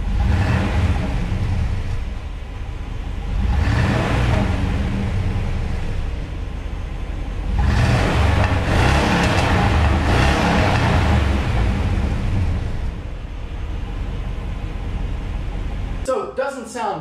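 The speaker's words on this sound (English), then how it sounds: "You can barely hear this truck." A Chevrolet Blazer pickup truck engine with stock exhaust idles with a low, muted rumble, swelling in a few brief revs, while a person talks over it.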